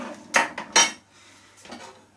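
A metal ladle knocks and scrapes against a pot of stew, two or three sharp clinks close together followed by a softer scrape, close by and with no voices.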